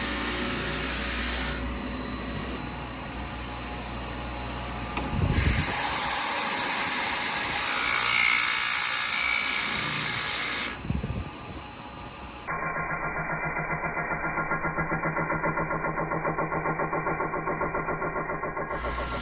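A Franzen automatic chain sharpener grinding a chainsaw chain gives a steady, loud mechanical whirr and hiss, with its pitch shifting between passes and brief changes in load, and no speech.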